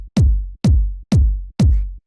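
Big fat kick drum sample from a minimal house track, four loud booming hits evenly spaced, each with a deep decaying tail and nothing else playing.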